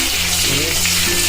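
Ingredients fry in a pan with oil, asafoetida and sesame seeds while being stirred, a loud, close, dense sizzle over one brief stretch with a hint of voice in the background.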